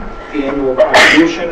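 Someone sneezes sharply once during a school committee meeting, loud and close, while a speaker reads out budget figures before and after it.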